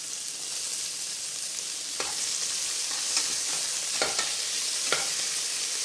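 Tomatoes sauté in a pan for mutton nombu kanji, giving a soft, steady sizzle. Several sharper scraping stir strokes cut through near the end, with no talk.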